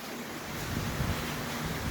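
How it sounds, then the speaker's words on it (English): Rain falling outside a garage where a BMW X5 E70 diesel engine is being worked on, a steady broadband hiss and patter holding level throughout, with no speech. "Sorry, that's raining outside."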